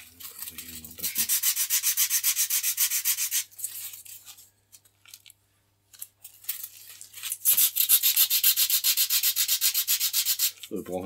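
Sandpaper rubbing over wood during repair of a wing surface built in positive construction, in long repeated rasping strokes, a loud stretch of steady back-and-forth sanding, a quiet pause, then another burst of rhythmic strokes.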